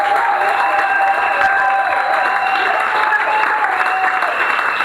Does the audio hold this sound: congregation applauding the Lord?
yes